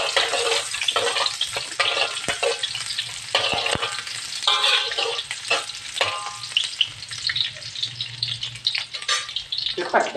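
Ginger, garlic and shallots stir-frying in hot oil, with a loud, continuous sizzle and crackle broken by the scrape of a spatula stirring through the pan.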